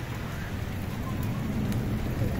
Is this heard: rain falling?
yes